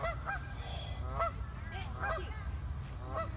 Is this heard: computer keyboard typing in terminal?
no